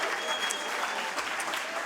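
An audience applauds a Tyrolean folk music band at a televised show, a dense, steady wash of clapping lasting a couple of seconds, fairly distant, with no voices standing out above it.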